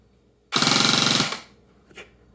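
A Gameface GFCR Cyclone AEG airsoft gun fires one full-auto burst of under a second, a rapid, even buzzing rattle of shots, loud and close, followed by a short mechanical click.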